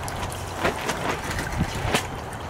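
Continuous rushing, splashing water flows steadily through a GOLDROP gold sluice discharging tailings, with a few louder sloshes breaking through the wash.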